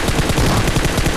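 Rapid automatic gunfire in the mobile game PUBG Mobile, a dense, loud, continuous burst of shots with no pauses.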